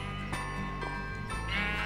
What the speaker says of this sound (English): is that an unnamed sheep? That's an unnamed sheep.